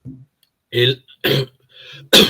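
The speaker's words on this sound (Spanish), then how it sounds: "qué pena que es que estoy con una tos, una carraspera que he tenido" Several harsh throat clears and coughs come in short separate bursts with quiet gaps between them, close up and fairly loud.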